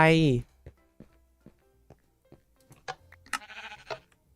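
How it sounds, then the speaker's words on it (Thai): A single short sheep bleat from Minecraft sounds loudly at the start, followed by quieter clicks and game noises with a voice talking briefly near the end. "แกะ"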